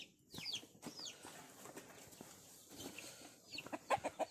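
Chickens cluck and squawk in short irregular bursts nearby, with a rapid series of clucks toward the end over quiet farmyard background.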